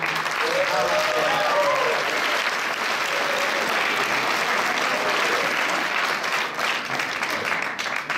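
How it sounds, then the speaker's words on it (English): A banquet crowd at a high school athletic awards night gives a sustained round of applause, a steady, loud wash of many hands clapping throughout, with some voices mixed in. "let's everybody give a big round of applause for Gil Lamb."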